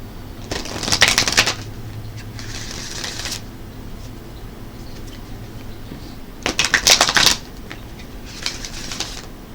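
A deck of Archangel Animal Oracle cards being shuffled by hand in two pairs of brisk riffling bursts, close and fairly soft, with quiet pauses between them.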